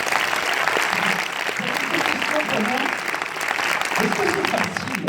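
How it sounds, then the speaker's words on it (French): A cinema audience applauds at a film premiere of the comedy Camping 3, with steady dense clapping throughout and voices murmuring underneath. "On peut les applaudir."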